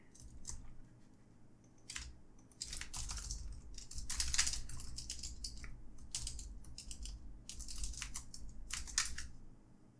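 Bursts of typing on a computer keyboard, quick clattering runs of keystrokes separated by short pauses, close and moderately loud with no talking.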